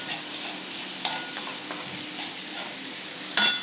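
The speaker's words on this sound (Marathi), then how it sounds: "आपल्याला भाज्या खूप शिजवायच्या नाही आहेत, फक्त थोडं तेलात त्याला नरम करून घ्यायचं आहे" Vegetables sautéing in oil for potato sandwich filling, a steady soft sizzle punctuated by a few stirring scrapes, heard up close with no talking.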